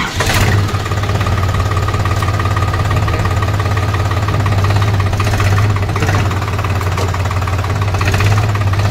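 A New Holland 4710 4WD tractor engine runs at a steady, loud, close idle with a rough, knocking beat and brief louder swells, with no voices.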